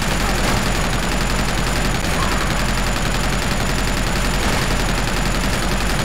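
Sustained rapid gunfire in Uncharted 2: Among Thieves, a dense, continuous rattle of automatic shots at steady loudness for several seconds with no pause.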